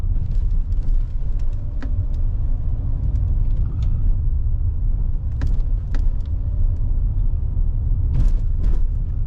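Steady engine and road rumble from inside a moving Kia Carnival 7-seat limousine, with a few brief bumps and thuds as it rolls over a speed bump.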